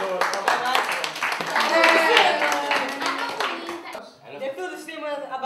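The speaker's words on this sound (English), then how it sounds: "I'll give you a round of applause." A round of hand clapping during a Skype lesson, with sharp, close claps mixed with voices talking over them.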